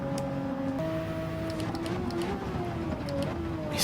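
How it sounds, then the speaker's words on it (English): A tuned 800pp race car in Gran Turismo drops down through the gears, its engine note rising and falling in steady, close, loud tones with faint clicks above. "It's so good coming down the gears in this car."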